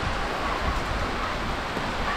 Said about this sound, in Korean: 지금 비 오는 거 보이죠?